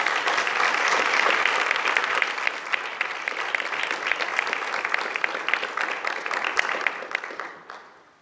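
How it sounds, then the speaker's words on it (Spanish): Sustained applause from an audience, steady and dense clapping that fades out near the end. "les pido un aplauso"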